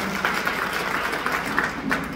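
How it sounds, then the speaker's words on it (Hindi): Audience applause at a Bahujan Samaj Party political rally, a steady dense wash of clapping from a crowd, fairly even in loudness throughout with no speech over it. "जोरदार तालियों के संग अभिवादन करें।"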